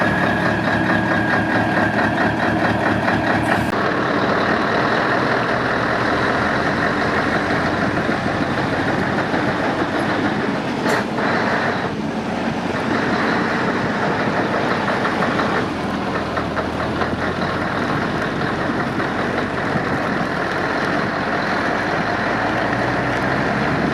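A Scania 143M 500 truck tractor unit drives solo without a trailer, its engine a loud, steady diesel rumble heard from close by, with a brief shift in tone partway through and no talking.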